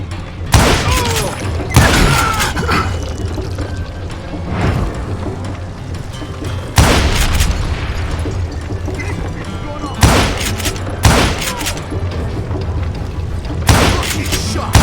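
Loud, sharp gunshots from Call of Juarez: Gunslinger ring out as single booming reports spaced a few seconds apart, each with a short echoing tail over a steady game background.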